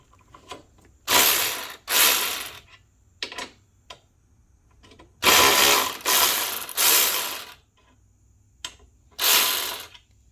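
Ratchet cranking bolts loose while pulling the strut off a BMW E46 M3 with KW coilovers, heard as six or so bursts of rapid close pawl clicking separated by short pauses.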